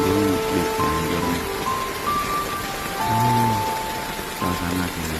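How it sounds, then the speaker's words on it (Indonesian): Late-afternoon rain falls steadily over rice paddies in Narendung, Cianjur, as a continuous broadband hiss. Faint low humming tones drift in and out beneath the downpour. "Lagi ngevideoin hujan turun di sore hari"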